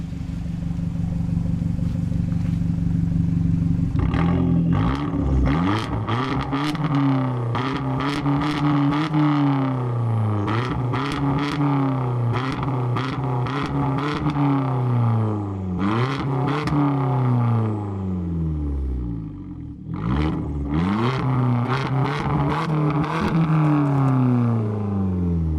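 Hyundai Genesis 2.0 turbo revved repeatedly near 4,000 rpm, rising and falling engine notes broken by sharp bursts of exhaust pops and crackles on each lift-off, loud and close throughout with no talk.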